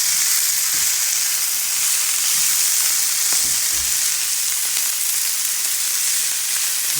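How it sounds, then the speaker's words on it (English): Kale and squash sizzling in a preheated pan on low heat, a steady dense hiss throughout with a few soft stirring knocks underneath, close and loud, no voices. "cook it down until that squash softens up"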